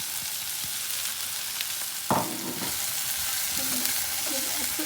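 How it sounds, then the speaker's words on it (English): Cauliflower and potato curry with added spices sizzling in a pan: a constant close frying hiss, broken by a brief scrape of stirring and a few soft knocks of the utensil. "And give it a quick stir again."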